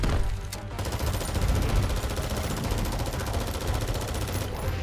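Rapid, continuous automatic gunfire in the video game Mortal Kombat X, loud and dense throughout like a sustained burst or fusillade.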